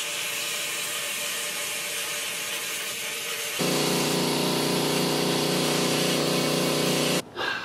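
A Cyclone E100 LTC abrasive blast cabinet is test run: a quieter rushing hiss is followed by a loud, steady droning blast with a strong hum that runs for several seconds and then cuts off abruptly.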